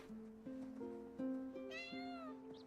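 Several cats meow in the cozy life-sim video game Heartopia, a run of short, clear mews overlapping one another at moderate distance over a quiet game soundscape, with no talking.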